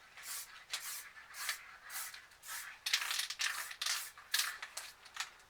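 Spray paint can misting paint onto a recycled canvas in short repeated bursts, a soft airy hiss pulsing about a dozen times, faint and close.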